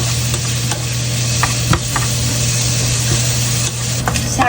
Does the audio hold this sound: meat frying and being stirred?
yes